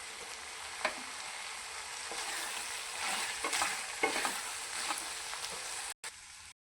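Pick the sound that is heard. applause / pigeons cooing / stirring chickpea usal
stirring chickpea usal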